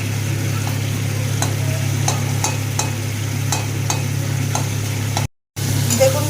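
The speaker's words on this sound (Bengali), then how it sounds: "এবার খুন্তির সাহায্যে এটাকে ভালো করে ম্যাশ করে নেব।" Boiled tomatoes are mashed with a spatula in a pan for a potato curry, steady rhythmic scraping and tapping strokes over a constant low kitchen hum, close and unvoiced, with a brief dropout near the end.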